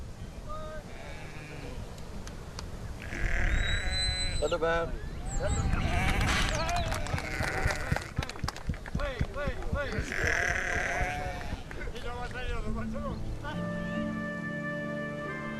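Sheep in the Irish mountains bleat repeatedly, loud and close, with several wavering calls overlapping across the stretch and a steady outdoor background underneath.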